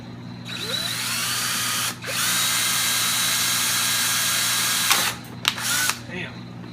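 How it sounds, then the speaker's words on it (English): Power drill whines steadily as it bores out rivets on a 1970-72 Chevelle center AC vent, running close and loud for several seconds, briefly pausing, then cutting off into short clatters and bursts near the end. "we're going to go ahead and take the rivet out."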